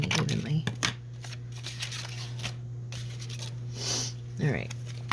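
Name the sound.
cutting paper pieces for journal cards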